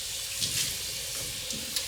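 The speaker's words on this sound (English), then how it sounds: "So I'm gonna rinse out this bowl before looking in the spatula." Running tap water pours steadily into a mixing bowl being rinsed out, a continuous close hiss and splash with small bumps as the bowl shifts under the stream.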